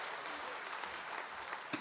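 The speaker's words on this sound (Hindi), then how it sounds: "तालियां बजा दीजिए" A Jaipur kavi sammelan audience claps in a steady burst of applause that carries on for under two seconds, dense and close.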